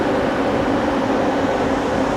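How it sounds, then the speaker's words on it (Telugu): Namo Green Rail hydrogen-powered passenger train pulling away between Sonipat and Jind, heard from aboard as a steady, loud rumbling drone with a broad hum that stays constant throughout. "మన ట్రైన్ అయితే బయలుదేరిపోతుంది."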